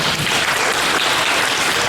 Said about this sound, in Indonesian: Tepuk tangan untuk itu.